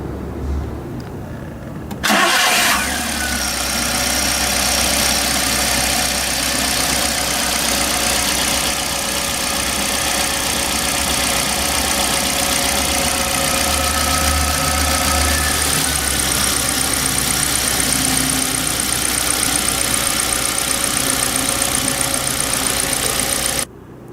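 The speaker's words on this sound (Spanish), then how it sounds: "En cuanto yo dé funcionamiento al motor, nosotros podremos verificar los pulsos de inyección en los 4 cilindros" Four-cylinder gasoline car engine cranking and catching after a brief click, then idling steadily and loudly for over twenty seconds before cutting off.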